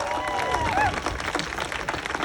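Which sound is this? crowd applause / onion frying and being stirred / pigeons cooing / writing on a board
crowd applause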